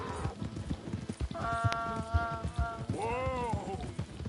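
Horse hooves clip-clop steadily on the ground in Red Dead Redemption 2, a close, rhythmic trot under game ambience with a few tonal whinny-like sounds in between.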